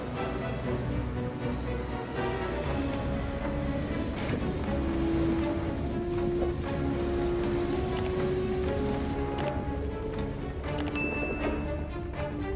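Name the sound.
ocean waves crashing on the shore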